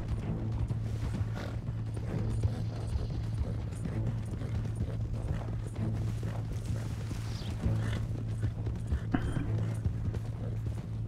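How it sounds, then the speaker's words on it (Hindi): A horse walking slowly in Red Dead Redemption 2, a soft, steady clip-clop of hooves under a continuous low hum, with a voice talking at times. "घोड़ा बहुत धीरे चल रहा है"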